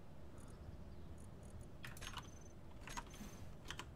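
Quick clicks of numbers being typed on a computer keyboard during a Space Engineers game session, light bursts of keystrokes in a few short clusters over a quiet background.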